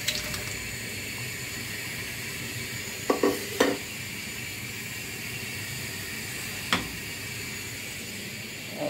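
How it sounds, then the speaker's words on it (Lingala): Sliced white and red onions frying in oil give a constant hissing sizzle, with a few sharp clatters from a utensil against the pot partway through. "na oketia yango na mafuta na biso"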